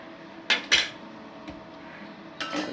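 A metal pressure cooker lid and pot are handled in a home kitchen while mutton leg curry cooks, giving a few sharp metallic clanks and scrapes near the start and again at the end, close and fairly loud over a quiet room.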